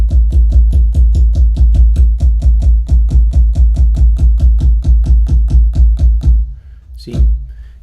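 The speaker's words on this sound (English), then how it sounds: "Still a little perturbed by the fact that I've got this click attack going on." Synthesizer notes with a sharp click attack, a rapid even train of about two dozen loud punchy hits that stops, followed by one final isolated hit.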